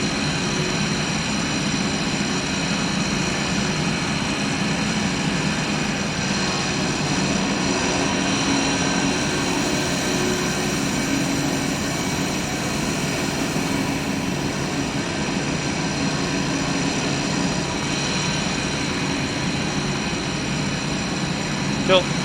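An Airbus A321 engine in a flight simulator game hums as a steady, continuous drone throughout, unchanging in level, with no distinct events.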